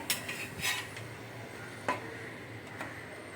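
A semolina snack is flipped and lifted from a pan: a few sharp metallic clinks and scrapes of a spatula against the pan over a faint background hiss.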